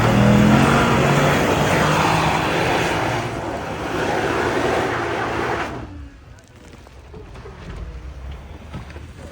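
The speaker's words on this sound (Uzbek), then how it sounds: "Motor kuchi yetmayapti." A car engine strains and roars loudly as it labours up a steep hill, a dense, sustained drone that drops abruptly to a quieter idle near the end.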